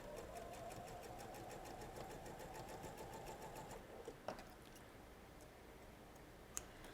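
A sewing machine running close by, a fast even mechanical whirr that stops partway through after stitching off onto an ender scrap, followed by a couple of sharp clicks and a quieter background.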